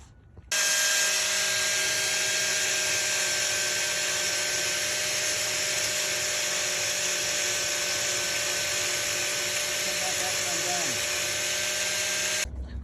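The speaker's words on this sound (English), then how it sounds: "I have the Makita 4-inch disc sander grinder that I'm gonna use to grind this down." A Makita 4-inch disc sander grinder grinds down a concrete foundation around a vent, a steady, loud, high whine that starts abruptly, holds unbroken for about twelve seconds, then cuts off.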